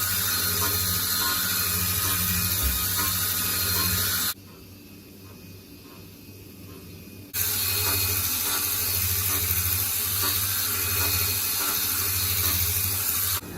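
A CNC cutting machine cuts a diamond pattern into a gold bangle, giving a steady, loud mechanical whirring and spraying hiss that drops out briefly in the middle before resuming, with no talk.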